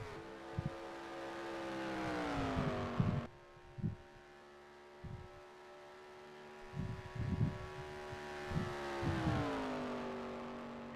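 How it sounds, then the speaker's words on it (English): Race truck engine in the NASCAR Racing 2003 video game, apparently running rough as if down a cylinder, holds a steady harmonic drone that drops out briefly then rises in pitch, with low thumping pulses underneath. "the truck sounds like it's a little bit lame if it maybe running on short a cylinder or something"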